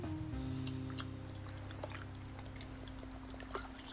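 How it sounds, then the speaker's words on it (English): Cactus Juice stabilizing resin pours over wood blanks in a container, a soft, close, continuous liquid trickle with faint dribbles and a low steady hum underneath. "simply get your resin and pour it over."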